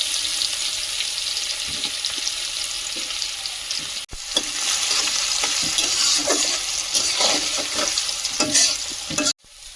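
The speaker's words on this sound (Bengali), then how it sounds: "ওই তেলেই মাংসটা রান্না করে নেব" Steady, loud sizzling of meat frying in hot oil, a continuous crackling hiss with occasional pops, near and uninterrupted.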